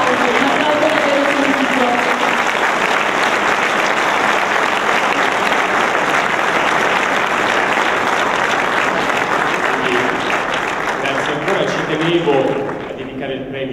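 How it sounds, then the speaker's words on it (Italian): Sustained, dense audience applause at a Brianza awards ceremony, loud and steady for about twelve seconds before tapering off at the end, with faint voices mixed in. "Un applauso."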